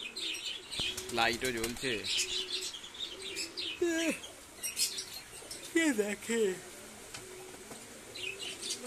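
Pigeons stir inside their loft during a rainstorm, with fluttering wings and brief chirps breaking through a steady wash of noise while someone talks close by.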